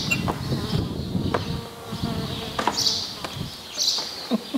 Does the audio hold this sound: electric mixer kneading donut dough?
no